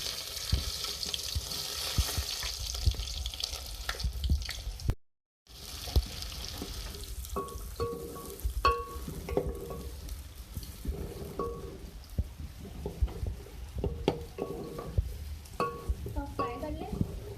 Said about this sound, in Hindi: ये ऑयल अच्छे से गर्म हो गया। ठीक है, अब मैं इसमें प्याज ऐड करूँगी।